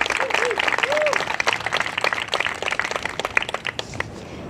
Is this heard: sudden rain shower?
no